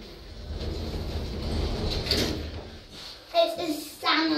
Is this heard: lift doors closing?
yes